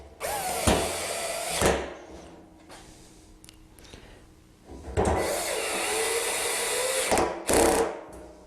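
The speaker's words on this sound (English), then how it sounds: "I'm going to use self-tapping screws and use my little handy drill here to do that" A small handheld drill drives self-tapping screws into wood, whirring in two separate bursts of a second or two each, with quieter clicks and handling noise in between.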